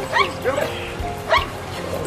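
A young Macedonian shepherd dog, a Karaman, at a national breed show gives two short yelping barks about a second apart, close by, with people talking around it.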